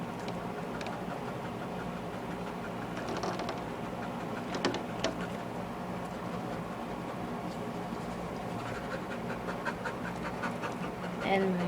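A dog pants steadily and close by while trying to climb up onto a bed, with soft rustling and shifting throughout.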